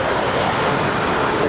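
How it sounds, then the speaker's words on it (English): An American Airlines Boeing 737-800 jet departs LAX, its engines producing a steady, broad, loud roar throughout the brief moment. "That is American 2184 departing to Chicago. It's a 737-800."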